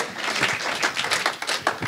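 A church congregation clapping their hands in a steady, lively rhythm, many hands together filling the room, with no voices over it.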